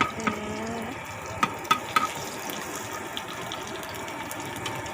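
Food crackles and sizzles steadily in a hot pan at a street market, with a few sharp clinks of a utensil on metal.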